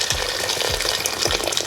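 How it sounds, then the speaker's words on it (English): Hot water pours steadily into a cooking pot of yellow split peas for an Acholi-style soup, a close, continuous gushing splash with small rhythmic surges and no talking. "I'm going to add hot water to quicken up the cooking process."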